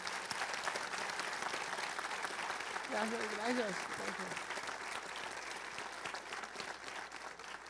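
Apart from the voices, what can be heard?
audience applause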